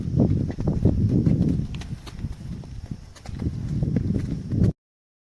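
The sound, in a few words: cows' hooves walking during loading onto a vehicle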